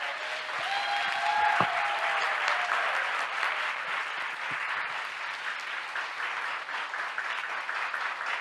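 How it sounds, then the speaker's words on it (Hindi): A church audience claps together at a Christian gathering, the broad applause steady and dense for several seconds, then fading a little toward the end. "आइए इसके लिए ताली बजाएं हम।"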